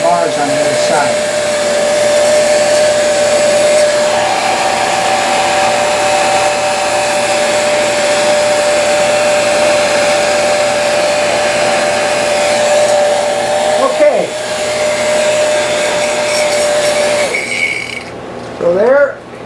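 A heat gun blows steadily and loudly up close while warming a vinyl insignia stencil on a Cessna wing, a continuous whooshing hum that cuts off near the end.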